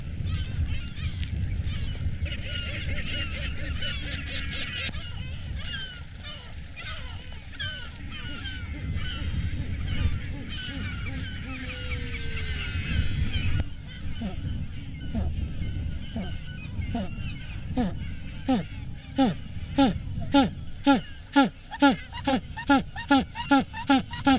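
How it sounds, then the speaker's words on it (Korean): Male penguins in Patagonia call to their mates from a nesting colony, loud braying honks overlapping from several birds, ending in a rapid rhythmic series of calls close by. "먹이 사냥을 나갔던 수컷들이 제 짝을 부른다."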